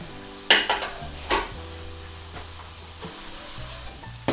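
Onions fry in a pan with a soft, steady sizzle, broken by a few sharp clinks and scrapes of a utensil stirring against the pan; no voices.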